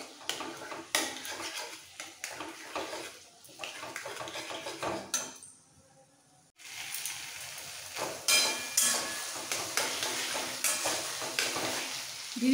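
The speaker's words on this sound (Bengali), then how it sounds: "এবার কচুর শাকটা মশলার সাথে মিক্স করতে করতে কষিয়ে ফেলতে হবে।" Taro leaves stirred and fried with spices in a pan, loud sizzling with scraping utensil strokes against the pan, a brief quieter pause midway, then steady sizzling and stirring resumes.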